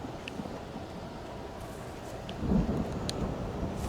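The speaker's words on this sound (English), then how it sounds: "The storm raged on as the Anderson brothers walked unsteadily" Steady rain with rolling thunder in the video game Alan Wake: a continuous wash of rainfall and a low rumble that swells briefly midway, with no voices over it.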